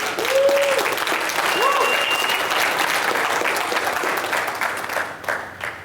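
A room full of anarchists at a conference bursts into applause and cheering, a thick sustained wash of clapping with a couple of whoops, fading slightly near the end.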